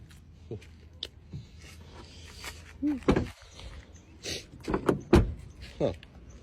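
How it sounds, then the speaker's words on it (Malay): A 2009 BMW E90 320i facelift car door closes with a couple of solid thumps among handling clicks and rustles, fairly close, while someone talks throughout. "Kau dengar tu bunyi pintu dia pun sedap lagi."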